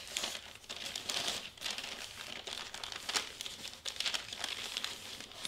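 Wrapping paper folded around a gift with a faux snow wrap, a steady close stream of crinkling and crackling paper handling with small peaks and no talk over it.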